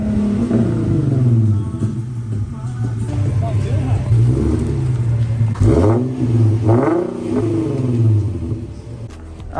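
An Infiniti Q50 with a Tomei exhaust, the engine rumbling at idle and rising in short revs, with people talking throughout.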